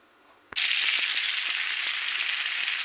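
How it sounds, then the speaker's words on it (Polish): After a quiet moment, a sudden loud sizzle erupts as zucchini boats hit a hot pan and keep frying steadily and close. "Łódka się smażą, teraz je podleję wodą ciepłą."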